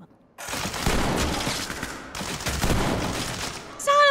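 M1014 shotgun fired in the tactical shooter Ready or Not, a burst of loud, close gunfire in two heavy clusters, with a faint game voice near the end.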